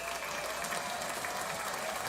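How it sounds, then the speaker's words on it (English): Clapping heard as steady, dense applause-like patter lasting about two seconds, fairly quiet and without talk. "I'm gonna react real quick. Give a little clap."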